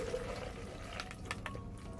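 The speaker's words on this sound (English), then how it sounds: "You're going to need a 15-ounce can of chickpeas, and you want to rinse them and drain them." Canned chickpeas are rinsed and drained under running water, which flows in a steady hiss with a few brief splashes and clatters near the end.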